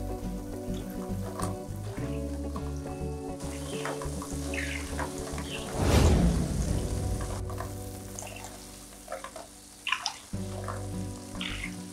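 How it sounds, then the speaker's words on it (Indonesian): Greek loukumades doughnuts frying in a wok of hot oil give a steady sizzling hiss, which swells into a louder bubbling burst partway through before settling back, with no talk. "Durasi menggorengnya ini kira-kira sekitar 10 sampai dengan 15 menit tergantung banyaknya donat yang dimuat di dalam wajan."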